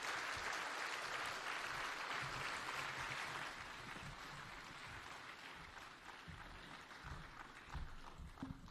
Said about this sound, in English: give a mighty, mighty clap to His Excellency the President